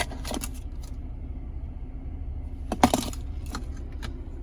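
A key fob jingles inside the cabin of a 2019 Jeep Cherokee Trailhawk in a short metallic rattle early on and a sharper clink near the end, close and fairly quiet over a low background rumble.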